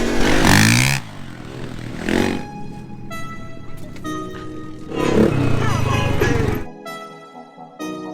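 Kids' dirt bike motorcycles on a track, with small engines revving and whining loudly in several bursts that rise and fall as the bikes pass nearby, and quieter stretches of idling between them.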